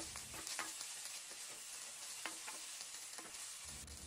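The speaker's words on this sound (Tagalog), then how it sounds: "Magpainit ulit tayo dito ng konting mantika at igisa na natin ang sibuyas." Onion sautés in a little hot oil for chicken curry adobo, giving a faint steady sizzle with scattered sharp crackles and a few stirring scrapes, no voices.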